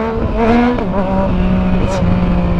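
A Yamaha MT-09 motorcycle revs hard and accelerates into a wheelie, the engine note climbing and falling loud and close, with a voice nearby.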